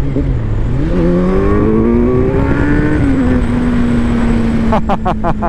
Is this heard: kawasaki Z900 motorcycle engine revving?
yes